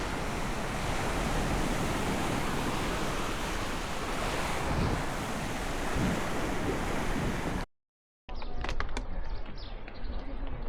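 Sea waves washing onto Golden Bay beach in Malta, a loud, continuous roar of surf with wind buffeting the microphone. It cuts out briefly, then returns more quietly with faint bird calls.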